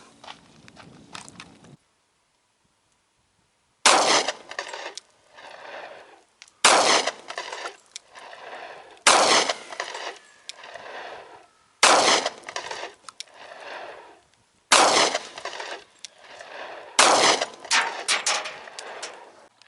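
Six sharp pistol shots from an S&W M&P Shield 45 fired at a target, loud and close, spaced about every two to three seconds, each with a short ringing decay; a brief quieter sound comes before the first shot.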